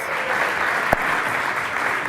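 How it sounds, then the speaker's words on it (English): A conference audience at South Summit 2016 applauds the band Les Grooves, a steady wash of crowd clapping with one sharper thud partway through. "I want to elicit a big applause for a fantastic band, Les Grooves."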